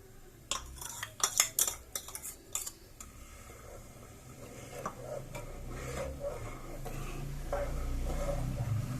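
Sugar stirred into vermicelli custard in a pan, a quick run of sharp spoon clinks and scrapes against the metal at first, then settling into a quieter, steady low bubbling.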